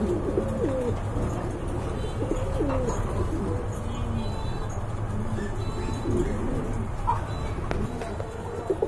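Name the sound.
pigeons cooing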